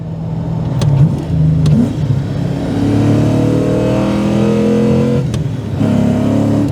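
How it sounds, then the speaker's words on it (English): A loud Nissan V8 engine in an R34 Nissan Skyline revving and accelerating up close, pitch climbing through the gears with brief dips between shifts. "Nissan V8, what a good engine."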